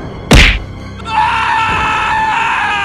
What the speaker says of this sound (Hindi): कमला बुल्ली को भी डंडे से पीटने लगी। बुल्ली के मुंह से चीख निकल गई।